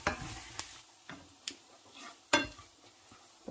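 Mustard seeds, urad dal and chana dal sizzle in hot oil with a soft, close hiss, broken by a few sharp spatula clicks and stirring scrapes against the pan.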